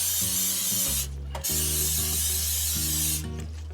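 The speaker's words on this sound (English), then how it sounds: "you can spray it with some oil" Loud hissing bursts of cooking oil spray onto spaghetti squash, one long and a second after a short pause, with a low mechanical hum underneath.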